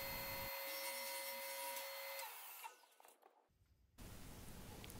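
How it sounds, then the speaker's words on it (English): Table saw blade scoring the underside of quarter-inch plywood as the piece is pulled backwards: loud steady motor whine with the blade cutting, a brief dip as the cut finishes, then the whine resumes. "I am actually pulling each piece across the blade backwards to score the underside of the plywood."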